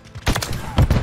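Gunfire in a video game comes in two short, punchy bursts of booming shots close up, separated by a brief lull.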